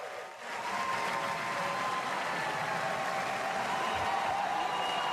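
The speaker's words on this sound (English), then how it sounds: "It's just the crowd is super loud" A loud crowd roars in a theater at the E3 2018 Ubisoft press conference, a dense, sustained wash of cheering and applause that swells and holds steady throughout.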